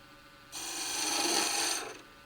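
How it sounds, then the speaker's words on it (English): A spindle gouge cuts wood on a lathe while a gavel is being turned. One continuous rasping, scraping cut lasts just over a second, close and fairly loud, with no talking. "now we're going to take a spindle gouge"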